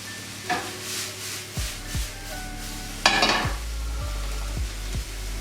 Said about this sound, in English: To our pan of onions and garlic, we're going to add a pinch of salt and pepper.